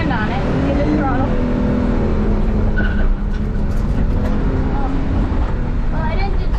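Drift car at a drifting event, engine roaring steadily and tires spinning under throttle, loud and continuous from inside or near the car, with a voice talking over it.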